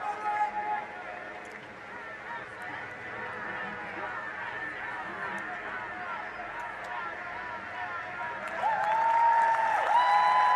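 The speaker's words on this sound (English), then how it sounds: "a huge round of applause and reception for him" Applause and crowd noise fill the space at a para alpine skiing giant slalom event in Milano, steady throughout and growing louder near the end, with a high tone rising over it.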